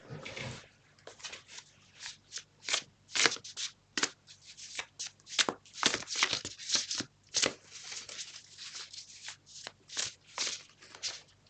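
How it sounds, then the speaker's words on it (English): Tarot cards are shuffled over and over in quick, crisp riffling bursts, close and fairly quiet, with short pauses between the flurries. "I'm just going to keep shuffling the cards"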